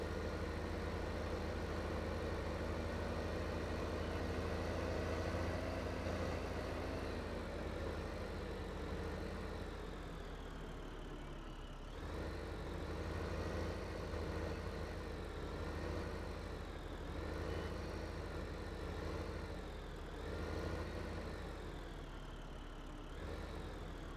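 Idling tractor engine in Farming Simulator 15, a steady low rumbling drone with harmonic hum that holds for the whole stretch, slightly shifting in pitch and load now and then, with no talking.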